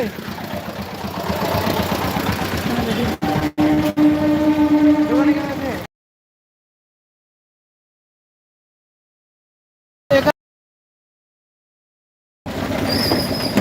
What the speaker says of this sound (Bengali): ট্রেন এখনই চলে যাবে